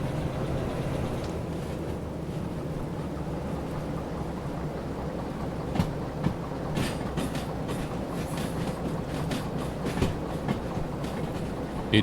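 A train rolls along steadily in a cargo-hauling video game, giving a continuous rumble with faint rhythmic clicks of wheels on track and no talking.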